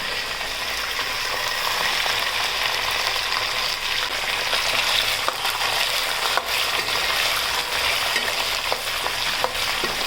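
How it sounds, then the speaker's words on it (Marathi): Peanuts, curry leaves, dried coconut and coriander seeds sizzle in hot oil in a kadhai for poha chiwda, a dense continuous fry with faint scraping and a few sharp clicks of stirring over it. "शेंगदाणे चांगले परतून घेऊया तेलात. कढीपत्ता टाकूया. खोबरं, धणे हे सगळं तेलात टाकूया."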